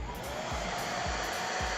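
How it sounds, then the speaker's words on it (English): A hair dryer runs steadily up close, drying wet paint on a miniature figure, its broadband whoosh constant and loud with a faint low thump recurring about every half second. "I'm going to take a hairdryer, and I'm going to hit this real quick off camera"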